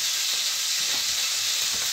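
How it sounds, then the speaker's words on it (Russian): Chebureki are laid two at a time into a very hot pan, giving a steady hissing sizzle, close and fairly loud, with no pauses and no voices across the short stretch. "выкладываю туда еще чебуреки"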